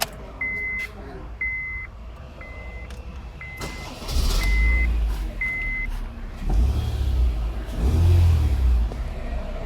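A 2009 Honda Civic gives a series of short warning beeps, then its engine starts and rises in a few loud, close revving surges.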